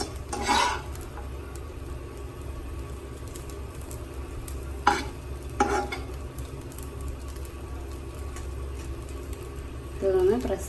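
Beef keema dosa cooks on a hot pan with a low, steady sizzle. Occasional scrapes and taps of a spoon or spatula cut through, and a voice talks over it.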